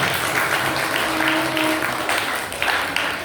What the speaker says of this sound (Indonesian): tepuk tangan sekali lagi untuk teman-teman kita